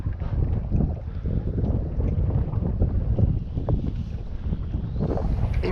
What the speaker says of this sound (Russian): Ветер у нас юго-восточный.